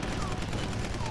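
Rapid gunfire from aircraft guns in the WWII dogfight game Combat Wings: Battle of Britain, a dense, continuous rattle of shots with engine drone, loud and filling the whole moment.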